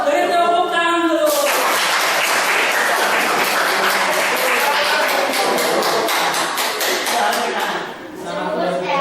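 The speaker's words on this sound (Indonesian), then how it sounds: "Beri tepuk tangan dulu." An audience at a school journalism dialogue event breaks into loud, dense applause that carries on for several seconds before fading, with a brief voice just before it starts.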